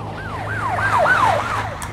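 A police car siren arriving at an accident scene by the shore in Hnífsdalur, wailing up and down in quick repeated sweeps. Fairly close and loud over a low engine hum, with no talk.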